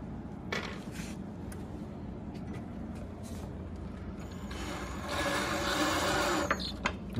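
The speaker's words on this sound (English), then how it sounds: "he'll shoot 1 screw into the bottom also" A power driver drives a screw into the underside of a fixed-height teacher's desk during assembly, giving a close mechanical whir that builds into a louder burst near the end, with no speech.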